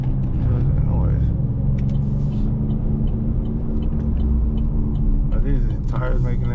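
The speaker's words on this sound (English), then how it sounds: "Are these tires making that noise?" A steady low rumble of tires rolling under a new truck on a test drive, loud and continuous inside the cab, with people talking over it.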